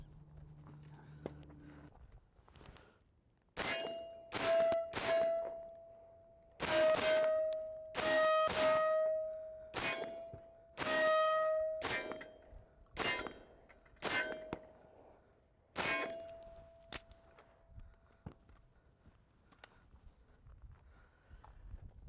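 Beretta M9 rounds striking an AmSec steel torso target, a series of about ten sharp metallic clangs with ringing tails, irregularly spaced, heard from a distance with faint gunfire under them.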